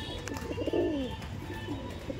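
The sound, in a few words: Madrasi pigeons cooing in a cage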